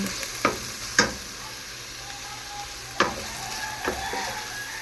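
Chicken sizzling in a hot pan with lemongrass, a steady crackle broken by several sharp clanks and scrapes of a utensil stirring.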